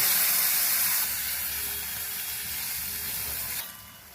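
Tomatoes added to a hot pan of softened onions and greens give a loud, close hiss of sizzling that fades gradually. No one speaks over it.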